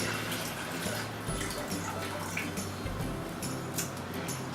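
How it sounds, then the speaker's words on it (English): Filtered water pours steadily into a blender jar for a raw vegan pumpkin milk recipe, producing a continuous close splashing, gurgling rush with no talking. "So I'll start by adding the 4 cups of water"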